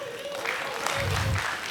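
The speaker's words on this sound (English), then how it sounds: "muna clap for yourself, I beg." An audience claps at a live stand-up comedy show in Lagos. The short burst of applause sits under a voice that carries on over it.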